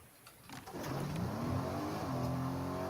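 A truck engine in the Fortnite video game rises from idle into a steady accelerating drone, revving upward and holding at a loud, close, continuous pitch.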